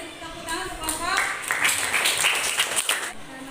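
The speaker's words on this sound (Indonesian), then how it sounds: "Kita beri tepuk tangan untuk kelompok." Sixth-grade schoolchildren in a classroom clap for a group of classmates, a dense patter of many hands that builds for a couple of seconds under a speaking voice.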